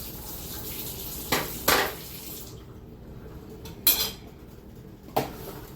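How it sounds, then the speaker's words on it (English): A metal potato masher clanks against a sink while being rinsed, with a few sharp knocks of metal on metal over a low wash of running water. "Let me give it a rinse so it'll be easier to clean."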